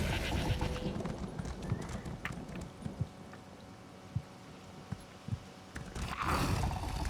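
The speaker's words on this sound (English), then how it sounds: "Back on my horsey horse." Horse hooves clip-clopping in the Elder Scrolls Online game as a rider travels on horseback, a steady run of light thuds with a few sharper knocks over a busy, continuous game background.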